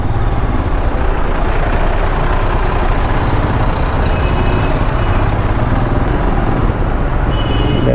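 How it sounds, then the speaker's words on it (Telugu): Morning road traffic in Bangalore, a loud continuous rumble of trucks, buses and cars idling and moving close by, with a few faint horn tones above the steady engine drone. "బెంగళూరులో 7:30కే ఇంత ట్రాఫిక్ ఉంది"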